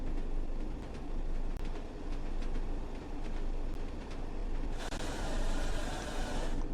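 A BR Class 101 diesel multiple unit runs along a Northern Trans-Pennine line and brakes, giving a steady close rumble of wheels and engine inside the carriage, with a harsher hiss of braking swelling over the last couple of seconds.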